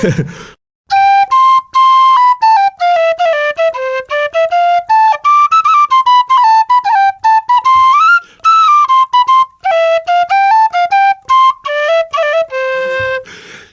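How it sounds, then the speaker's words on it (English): A bright, lively tune played solo on a tin whistle, quick shifting notes with short breaks between phrases. "let's have some Irish whistle music then, please"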